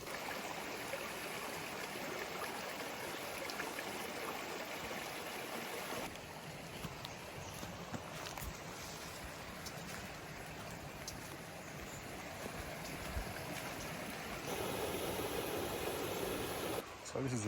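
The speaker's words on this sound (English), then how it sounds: "Just go check this last waterfall out before we go." Waterfall on the Cascades track in the lush Gondwana rainforest, heard as a steady broadband rush of falling water that stays constant and close throughout, with faint rustling and movement near the mic.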